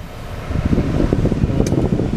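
Steady broadband blowing from the air conditioning inside a 2012 Honda Civic FB 1.8 i-VTEC, a close, continuous fan rush with a low rumble and no talking.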